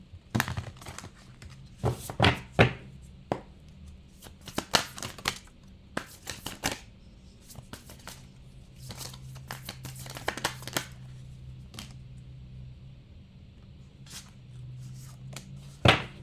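Tarot-style cards for a pick-a-card reading being drawn out and handled, with irregular close flicks, snaps and rustling shuffles in clusters over a quiet background.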